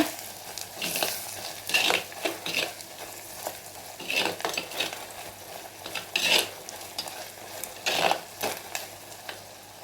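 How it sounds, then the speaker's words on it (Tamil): Chili powders are stirred into sautéed onion and garlic in a pan, with a spoon scraping and clinking in repeated strokes over a steady close sizzle. "இதில் தனி மிளகாய்த்தூள், குழம்பு மிளகாய்த்தூள் 2 சேர்த்து கலந்துக்கோங்க"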